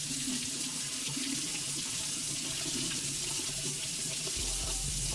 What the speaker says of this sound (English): now what you want to do is go ahead and rinse it off